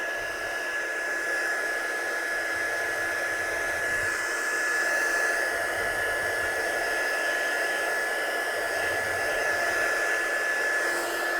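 A hair dryer blows steadily on freshly stamped card ink for a handmade card, a constant close whooshing hiss with a faint high whine running unbroken throughout.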